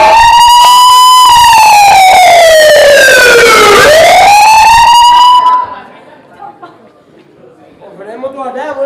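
An ambulance siren used as a sound effect in a Punjabi comic stage drama: a loud, close, wailing tone that falls and then rises again before breaking off, followed by people talking.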